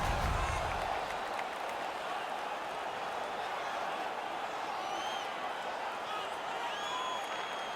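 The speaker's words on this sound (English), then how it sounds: "The crowd is ecstatic." An arena crowd in the NHL 19 hockey video game roars and cheers after a fight, a dense, steady wash of noise throughout, with faint whistles on top.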